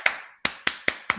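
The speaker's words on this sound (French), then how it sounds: "Je vous demande d'applaudir." Five sharp, evenly spaced hand claps, close and loud, in a synchronized count at a beauty product kit presentation, with no talking over them.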